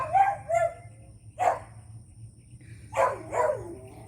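A pet dog barks and yips in separate bursts, a couple of short calls early, one sharp bark in the middle and two more near the end, fairly close in an indoor home setting with a low steady hum underneath.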